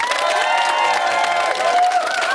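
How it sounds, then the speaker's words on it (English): A studio audience at a Celebrity Big Brother UK 2015 spin-off show claps and cheers, a dense, loud wash of applause with whoops and raised voices rising over it throughout. "But I suppose we give them a round of applause."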